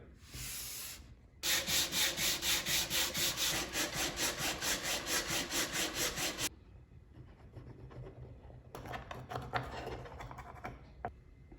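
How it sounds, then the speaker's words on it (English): Steady, rhythmic rasping of sandpaper scrubbing back and forth across walnut wood, loud and close, in several bursts with short pauses between. "So give this a sanding and then we'll glue these 2 halves together."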